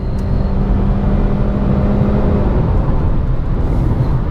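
A 2017 Honda Civic EXL with a 2.0 engine and CVT transmission pulls hard under acceleration, a sustained whirring drone that holds high revs without gear shifts, heard from inside the car.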